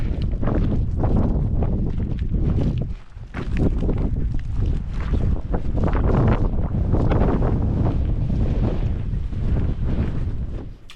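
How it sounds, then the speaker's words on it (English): Strong wind buffeting a microphone outdoors on Orkney during a motorcycle tour, heavy rumbling gusts that roar continuously and briefly drop near the three-second mark before surging again, loud and close, with no talking. "Sorry about the wind, boys, but it's windy."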